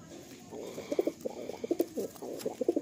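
A compact pair of Kalanka Madrasi pigeons coo close by in a loft, giving a run of low, rhythmic throaty pulses that repeat steadily, with no talk.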